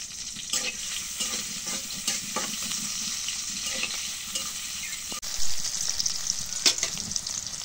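Chopped onions sizzle steadily in hot oil in a pan, a dense continuous frying hiss with occasional stirring scrapes and clinks, close and fairly loud throughout with no talking.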